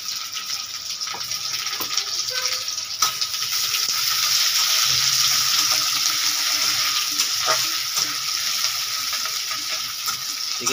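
Onions sizzling steadily in a frying pan while cooking chana masala at home, a continuous close hiss with faint clinks, no talking.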